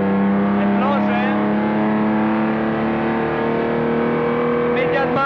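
A 1962 race car engine at Blanchimont on the Spa-Francorchamps circuit drones loudly and steadily, its pitch sliding through gear changes as it holds and then swells again.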